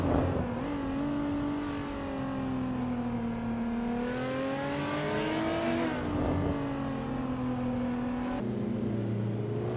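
Alpine A110 race car in a racing video game, its engine droning steadily and rising and falling through gear changes with brief dips between shifts, loud and close the whole time.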